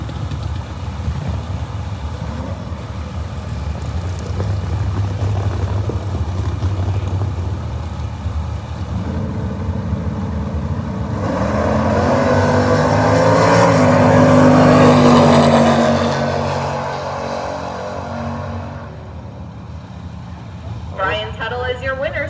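Bracket drag racing cars idle and rumble at the line, then engines rise in a roaring pass that swells and fades, while an announcer talks over the track noise.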